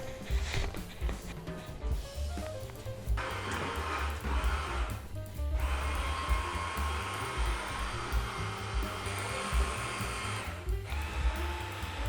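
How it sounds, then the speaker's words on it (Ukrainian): Electric mixer whipping butter cream at low speed for a wafer cake with almond, peanut and coconut, a steady close motor whir running throughout with some clatter and brief changes in tone. "Все збиваємо тільки маленьку швидкість."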